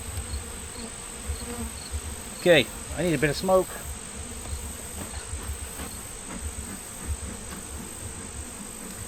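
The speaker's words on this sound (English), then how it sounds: "because I love my bees. I even love the boy bees," Honeybees hum in a steady, close buzz during a September hive inspection, with a few brief louder flurries near the middle. A person speaks briefly over the buzzing.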